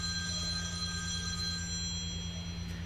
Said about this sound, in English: That's somebody else's phone over there.